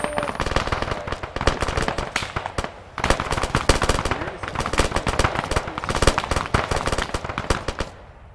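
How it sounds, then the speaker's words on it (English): Dense, loud bursts of automatic gunfire and overlapping shots in the military shooter Arma 3, continuous and rapid throughout with brief lulls, sounding close and sustained. "The gunfire's too loud, I'm pushed away."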